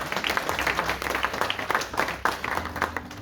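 Congregation applauding to acclaim the Lord during a church testimony, dense and lively clapping that carries on steadily throughout with no pause.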